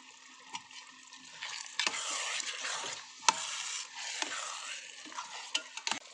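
Potatoes and green chilies fry in a hot pan, a steady hiss and sizzle broken by repeated scraping strokes of a spatula stirring them, with no talk.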